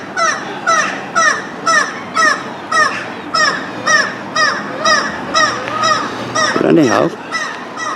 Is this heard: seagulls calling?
yes